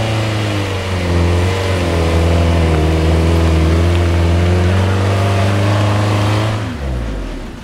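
An Audi Allroad with clutch-based all-wheel drive and a manual gearbox strains up a steep off-road climb, its engine roaring loud and steady at high revs for about seven seconds before the pitch drops away.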